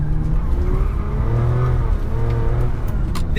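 A Ferrari 456GT's powerful V12 engine roars steadily nearby on a tiny winding road, with tires faintly squealing as it drives along, loud and continuous throughout.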